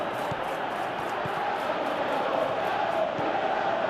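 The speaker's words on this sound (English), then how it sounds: "Crowd calling for him to shoot." A stadium crowd in the PES 2018 football video game keeps up a continuous, dense roar of chanting and urging, steady and fairly loud throughout.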